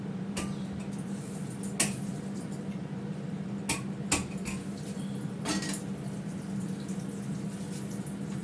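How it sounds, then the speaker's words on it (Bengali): A kadai cooking pot is washed with water at a kitchen sink: a few sharp metallic knocks and scrapes stand out over a steady low hum of running water. "আমি এরকমভাবে ধুয়ে নিলাম"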